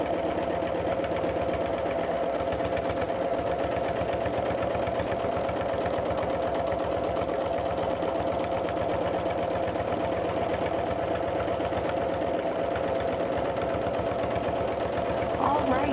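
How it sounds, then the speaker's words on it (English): A sewing machine free-motion quilting shingles on a fabric lighthouse seascape, with a steady rapid needle rhythm running continuously up close for the whole stretch. "I just really like free motion quilting, so I like to do this with free motion."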